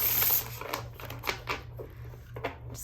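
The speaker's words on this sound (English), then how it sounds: "just give these one more good shuffle" A deck of tarot cards being shuffled by hand, a run of quick papery riffles and soft flicks with brief pauses between bursts, close and fairly quiet, no talking.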